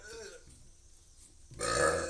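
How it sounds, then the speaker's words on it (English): A loud, drawn-out burp after drinking water bursts out near the end, following a quiet stretch and some earlier voiced sound, in a garage-like workshop setting. "Water burp."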